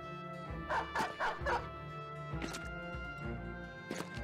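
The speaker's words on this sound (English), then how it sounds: "There's a dog." Dog barking in the Battle Brothers video game, a quick cluster of three yapping barks followed by scattered single barks, fairly faint amid game ambience.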